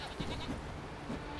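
A goat bleats in The Witcher 3 video game. A few faint, short bleats sound over a soft, steady game ambience.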